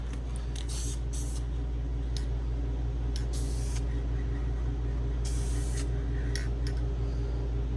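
VHT Nightshade tint paint is sprayed from a can onto BMW e90 reflectors in several short, sharp hissing bursts of uneven length, heard up close over a steady low background hum.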